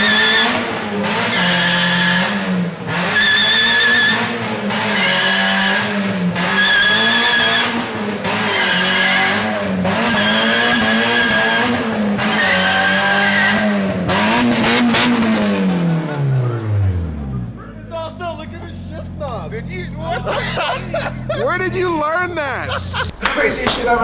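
A car holds a long, loud burnout with continuous screaming tire squeal and pulsing revs close up, then the engine winds down and a lower, rougher rumble follows, suggesting a shift into reverse; people talk over parts of it.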